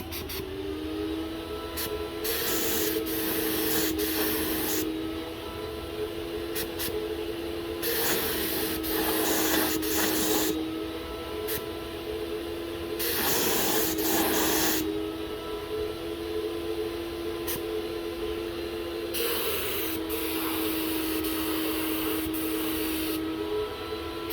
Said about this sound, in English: what I'm gonna do before I start spraying the backside, I'm gonna hit the angles first